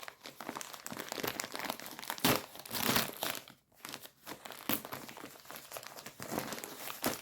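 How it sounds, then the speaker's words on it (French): Paper and packaging from a mailed swap parcel crinkle and crumple as it is opened by hand, with bursts of rustling and tearing close up and fairly quiet, no voices. "J'adore ouvrir les paquets, mais découvrir."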